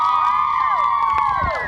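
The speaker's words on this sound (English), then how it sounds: "Everybody cheer, right? Everybody's excited for Eastlake down here" A crowd of students cheers for Eastlake, with loud sustained high-pitched shouting and whooping from many voices at once, close and energetic throughout.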